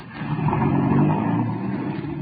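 A car engine pulls away as a sound effect in a 1937 radio mystery drama, a steady revving motor rising then easing as it drives off, loud and close with no talk over it.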